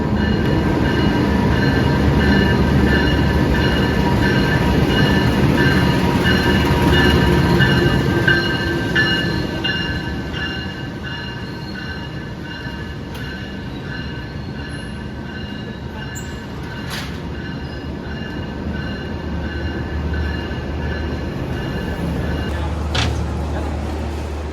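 A local Supas commuter train between Surabaya and Probolinggo, heard from inside, gives a continuous loud rumble of wheels on rails with high squealing tones, easing slightly after the first few seconds. Faint voices sound in the background.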